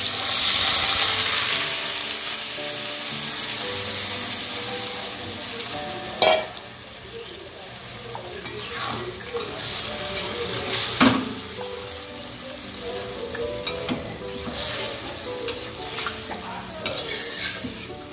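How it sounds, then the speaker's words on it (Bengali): Marinated chicken sizzles and fries loudly in a hot pan for Bengali dinner-party cooking, with steady crackling throughout and repeated scraping and stirring knocks; no talking. "এবার এই ম্যারিনেট সহ চিকেনটা এবার এখানে দিয়ে দেবো।"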